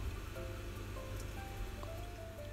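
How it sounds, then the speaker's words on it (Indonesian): A little cooking oil heating in a wok for egg fried rice, giving a steady, faint crackling hiss close by with a few tiny pops and no speech. "panaskan wajan kemudian beri sedikit minyak goreng"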